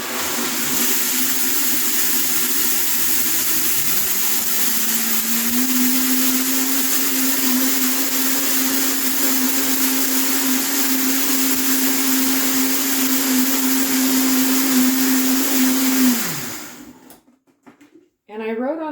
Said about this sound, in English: you can blend it for like 1 to 3 minutes